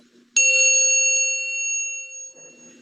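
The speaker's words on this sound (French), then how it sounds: "on a bien entendu la petite cloche, Eddie, n'est-ce pas?" A single bright chime rings out and slowly fades, its clear ringing tone hanging in otherwise near silence.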